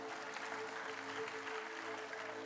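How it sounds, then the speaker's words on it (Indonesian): A church congregation applauds during a sermon, a steady wash of clapping heard at a distance beneath a faint sustained hum. "Beri tepuk tangan yang meriah buat Tuhan."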